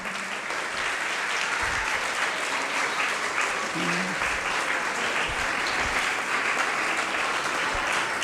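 An audience applauds at a thanksgiving church mass in St. Michael's Parish, Godhra Camp, a steady dense clapping that fills the whole stretch at moderate volume.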